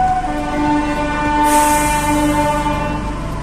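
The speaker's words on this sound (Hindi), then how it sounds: "ये आई शिमला की टॉय ट्रेन यहाँ पे चंबा घाट में अभी रुके है" The Shimla toy train arrives at Chamba Ghat station with a loud steady rumble and a sustained horn tone, a brighter hiss swelling midway as the carriages roll close by.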